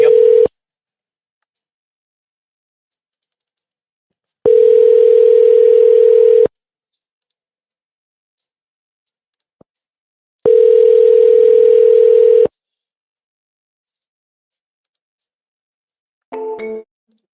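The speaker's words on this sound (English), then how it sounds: "And you guys hearing that phone ring, right?" Outgoing-call ringback tone on a phone line: steady two-second rings separated by long silent gaps, loud and clean, with a brief blip at the end.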